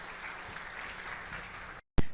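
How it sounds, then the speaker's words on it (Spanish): Congregation applause in a church service after a sermon, a soft, steady patter of hands that runs for most of the moment before cutting off abruptly, followed by a sharp click. "Démosle un fuerte aplauso al Señor"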